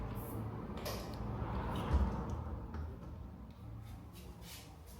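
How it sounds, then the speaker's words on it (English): Sliding doors in a 52-square-meter Japanese apartment in Fukuoka are rolled along their tracks, giving a steady, low rumbling slide with faint creaks and knocks for several seconds. No voices are heard. "We have some sliding doors."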